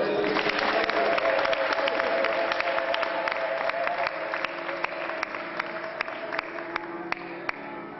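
An audience at a church gathering claps and cheers, a dense, continuous wash of applause with sharp individual claps standing out, heard from the middle of the crowd and fading slightly toward the end.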